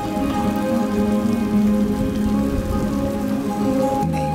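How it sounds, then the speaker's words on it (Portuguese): Torrential rain at the start of the rainy season in Zambia's Luangwa valley, a loud, dense, unbroken hiss of drops pouring down throughout, with no voices. "as nuvens carregadas finalmente trazem a chuva"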